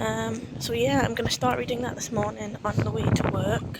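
Gusty wind buffeting a microphone outdoors on a blustery morning, a low rumbling roar running steadily under a person talking throughout.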